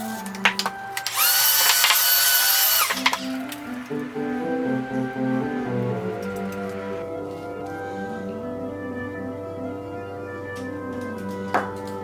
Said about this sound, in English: drill the holes into the wood base just big enough to fit in the flower